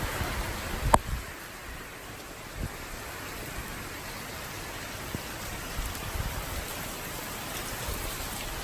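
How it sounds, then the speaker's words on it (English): Steady heavy rain hisses continuously, with a few sharper drips and knocks standing out from the dense wash of sound. "It has been constantly raining, I mean heavily raining for 3 hours"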